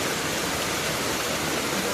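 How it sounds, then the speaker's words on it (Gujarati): Heavy rain falls at night as a dense, steady roar of close, loud hiss with no break and no voices. "જુઓ કેટલો વરસાદ આવે છે. રાતનો આવે છે વરસાદ"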